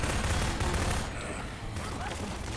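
Sustained automatic rifle fire from a Garry's Mod shootout, a dense continuous barrage of shots loud and close throughout, with faint voice underneath.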